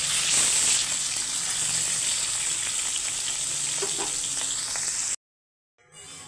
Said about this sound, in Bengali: আর এইখানে মাছের মাথাগুলো আমি হালকাভাবে ভেজে নেব।